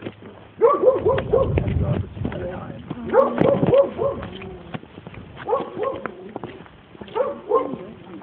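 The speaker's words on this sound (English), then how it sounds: "Dog right there." A dog behind a gate barks in repeated bursts of sharp, excited yips and barks, fairly close, with people talking over and between them.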